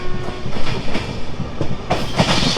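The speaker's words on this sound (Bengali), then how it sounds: "আর ওই দিকে দূরে আরেকটা ট্রেন যাচ্ছে দেখা যাচ্ছে।" A train runs past rice fields, its rumble carrying a steady clickety-clack of wheels over rail joints that rises near the end, with no talk.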